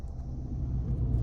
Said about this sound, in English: take this 2024 Subaru Impreza RS out on the road for a test drive